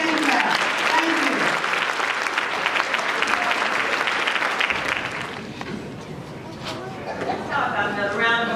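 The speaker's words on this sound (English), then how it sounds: "Give the Lord a hand clap." Audience at a youth empowerment gala and awards ceremony breaks into sustained applause, a dense, loud clapping crowd that gradually thins toward the end, with voices audible over it.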